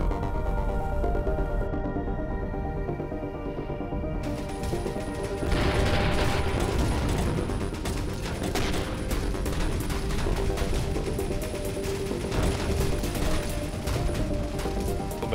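Rapid gunfire rattles on without pause as ships shoot at pirates in the space game Avorion, with bursts and mechanical clatter forming a loud, continuous barrage and no talk.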